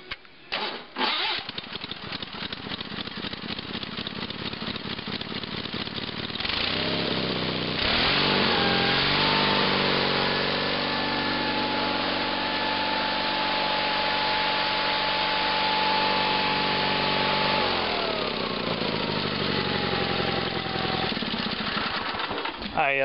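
A 33-year-old Sears GT/18 Hydrodrive garden tractor engine runs loud and close after a cold start. It begins with a choppy, fast rhythm, then settles into a steady, even drone that carries on throughout.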